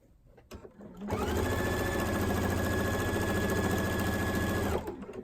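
Sewing machine machine-quilting a binding, stitching in the ditch: a steady, loud mechanical whir with an even high-pitched hum that starts after about a second, runs unbroken for nearly four seconds, then stops.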